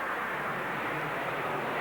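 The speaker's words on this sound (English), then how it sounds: "This specially designed airplane was flown hundreds of times on parabolic sweeps into the sky" Steady broadband roar of a specially designed airplane flying parabolic sweeps for Gemini astronaut weightlessness training, a continuous droning engine and air noise holding level throughout with no talk.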